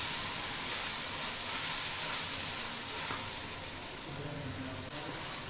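Onion frying in a pan with green chili and ginger paste, a steady hiss and sizzle that holds evenly throughout and eases off slightly near the end.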